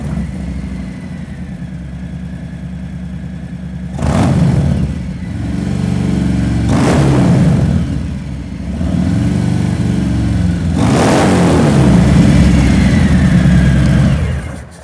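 A Milwaukee-Eight Softail Fat Bob with uncorked S&S Grand National mufflers idles with a deep loping rumble, then revs three times in strong throaty surges. It is loud and close, with no talk.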